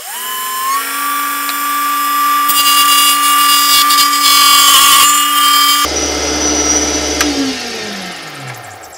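A wood lathe spinning up to speed while turning a safety razor handle blank, a loud steady whine and motor hum with rough scraping of the tool against the wood, then winding down as the motor slows.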